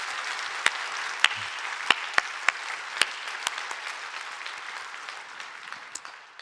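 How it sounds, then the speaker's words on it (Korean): A church congregation applauds during a worship service, a steady moderate wash of many hands clapping that slowly fades, with a few sharper individual claps standing out near the front. "그 예배를 받으시기에 합당하신 하나님께 박수 한번 보내드립시다"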